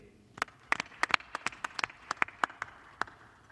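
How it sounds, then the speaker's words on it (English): Sparse, scattered claps from a small press-conference audience for boxing trainer Rob McCracken, about a dozen sharp separate hand claps spread unevenly over a few seconds, fairly close and fading out without a full ovation. "Ladies and gentlemen, round of applause for Rob McCracken, MBE."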